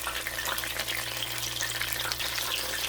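Baby bella mushrooms deep frying in hot oil give off a dense, steady crackling sizzle, close and continuous throughout, with no voices.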